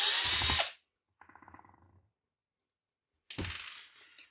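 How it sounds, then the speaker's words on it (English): Power drill backing screws out of a homemade electronic lockbox: a loud whirring burst, a softer shorter run, then another whir after a pause, with silence between. "I put 2 screws in to hold it temporarily. Let me take those out."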